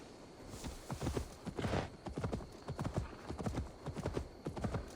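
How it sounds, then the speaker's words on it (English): Horse hooves clip-clop steadily at a walking-to-trotting pace in Assassin's Creed Valhalla, set in a Viking-age town, the repeated hoofbeats loud and close over a faint ambient backdrop, with a brief whinny-like sound early on. "Now to deliver Magni his horse."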